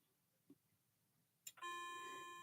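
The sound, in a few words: clock chimes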